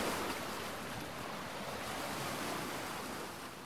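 Surf breaks on a warm beach on Gran Canaria as a broad, steady wash of waves with some wind rush, continuous and moderately loud with no voices.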